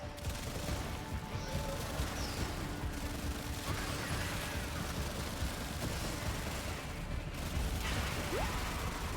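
Gunfire from shooting in the Warframe game runs as a dense, steady rattle of mechanical shots and impacts under constant game noise, moderately loud throughout.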